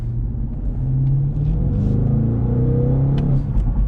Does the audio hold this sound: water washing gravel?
no